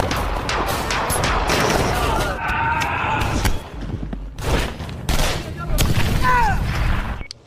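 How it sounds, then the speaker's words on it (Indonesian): A film gunfire shootout: dense rapid shots and booming blasts in a loud, sustained barrage, with voices speaking over the action. "sehingga terjadilah baku tembak"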